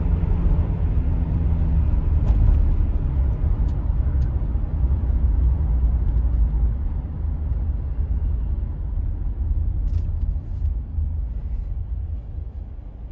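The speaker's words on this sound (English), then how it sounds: "they're quite a quick car off the traffic lights, as you can hear" A Toyota Alphard four-wheel-drive car pulls away from traffic lights, its engine a low, loud rumble that swells early and then gradually eases, heard from inside the cabin with only faint clicks and no talking.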